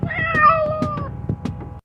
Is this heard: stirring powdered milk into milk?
no